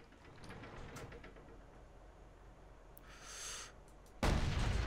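Tank cannon fire in World of Tanks: a single sharp, loud blast breaks out of quiet battlefield ambience, after a fainter rumble just before it.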